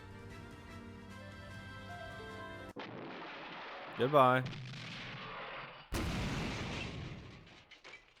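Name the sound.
dynamite explosions in video game Rose Guns Days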